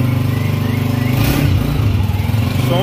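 A new 2023 Honda CG125 motorcycle idles steadily after a kick start, its engine chugging in a continuous low, even rhythm close by with faint clatter, no speech over it.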